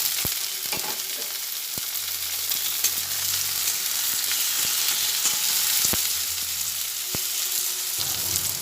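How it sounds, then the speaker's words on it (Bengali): Onion and tomato fry in a pan with a steady sizzling hiss, broken by scattered sharp taps and clicks of a stirring spoon at irregular intervals, with no voices. "পেঁয়াজ আর টমেটো ভেজে নিতে নিতে"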